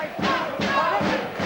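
A rugby league stadium crowd of over 3,000 roars in loud, surging waves, with several swells of cheering rising and falling in quick succession.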